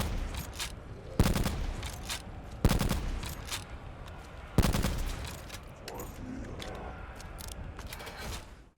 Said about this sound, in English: it turns the sniper into a 3-round burst from a single shot bolt action